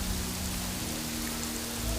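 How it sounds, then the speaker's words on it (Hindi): Heavy rain falling outside, a dense, steady hiss of downpour with no breaks and no voices, heard from indoors at moderate volume. "बाहर बारिश अभी भी हो रही थी, ज़ोर की, बहुत ज़ोर की बारिश"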